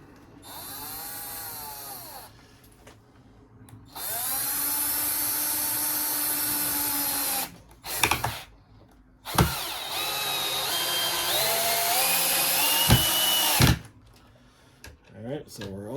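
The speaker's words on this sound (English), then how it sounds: "we're going to put our first screws in" A power drill drives screws into a board while building a Kydex press, with several whining bursts of a few seconds each that rise and fall in pitch, separated by short pauses, clicks and clunks.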